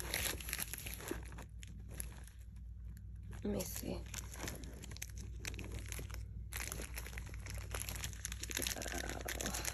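Plastic packaging around a geometric holographic purse set crinkles and rustles as it is pulled open by hand, a quiet, steady handling sound with a few brief spoken words.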